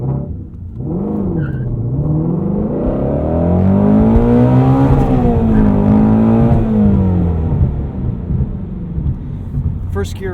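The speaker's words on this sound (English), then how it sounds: "let's do a little 0 to 60 run here" A 2016 Ford Mustang Shelby GT350 accelerating hard from a standstill in a 0 to 60 run, the engine note rising and swelling loudly from inside the cabin, then easing off near the end.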